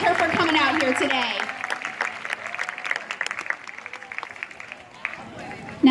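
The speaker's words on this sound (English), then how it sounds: "Let's give her a great big round of applause." Audience applause at an aquarium seal show, a crowd clapping steadily for several seconds, with some cheering and background chatter mixed in.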